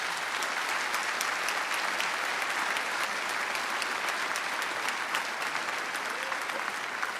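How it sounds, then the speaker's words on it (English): Sustained applause from the audience at a state legislature's inauguration of its General Assembly, steady dense clapping filling the room for several seconds without pause. "I honestly think we all should give Jim Durkin a round of applause."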